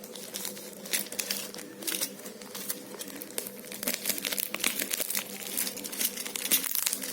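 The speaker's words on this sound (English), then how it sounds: "So let's unbox." A package holding a digital color table clock being unboxed, with continuous close crinkling and crumpling of packaging and occasional small taps, fairly quiet and without talk.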